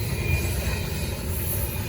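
A Norfolk Southern freight train passes close by in Gaffney, South Carolina, a steady loud rumble of rolling railcars with a faint high wheel squeal running through it.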